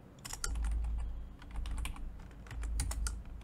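Fingers tap quickly on a computer keyboard, a close, soft run of clicking keystrokes with brief pauses between the bursts.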